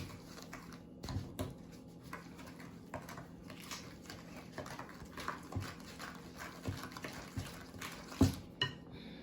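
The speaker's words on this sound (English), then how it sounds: "sugar and brown sugar, and I'm gonna stir this up" Sugar and brown sugar stirred in a bowl, a spoon scraping and tapping against the bowl in irregular close knocks and clinks, fairly quiet, with no voices.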